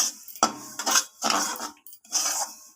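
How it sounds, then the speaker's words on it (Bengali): Semolina being stirred and roasted in a metal pan, a spoon scraping and clinking against the pan in several distinct bursts, close and fairly loud, with no talking. "তো সুজিটাকে এইভাবে অনবরত নাড়াচাড়া করে লাল লাল করে ভেজে নিতে হবে।"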